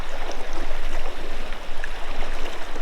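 Strong river current rushing steadily, a broad continuous wash of flowing water close by in a cold California creek, with no voices over it.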